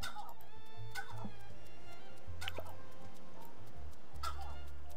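A turkey gobbles in the Dinkum video game, several loud rattling gobble bursts repeating over a quiet background with low tonal game sounds.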